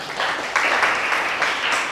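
Classroom applause for a student group, a short burst of clapping from a small group of pupils, fairly close and steady, swelling slightly midway.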